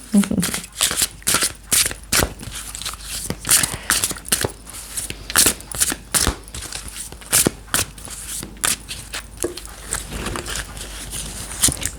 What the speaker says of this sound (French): je vais vous tirer une dernière carte, les poissons, parce que c'est vous, c'est avec la carte des fées